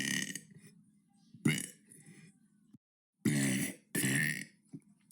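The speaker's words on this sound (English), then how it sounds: "That was day 7 of burping for 100 days." Several loud, close burps come from one person in separate bursts, some short and some drawn out, with quiet pauses between.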